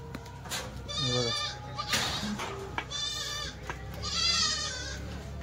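Kathiyawadi goats at a livestock sale bleat several times nearby, loud wavering cries overlapping one another, with someone talking faintly in the background.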